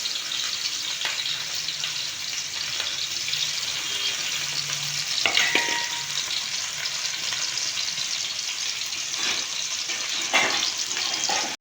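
Chopped onions, tomatoes and green chillies sizzle steadily in a hot pan while being stirred, with occasional scraping clinks of the spoon, close and continuous.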